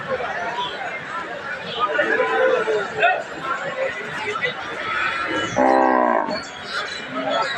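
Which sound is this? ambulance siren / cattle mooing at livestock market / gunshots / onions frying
cattle mooing at livestock market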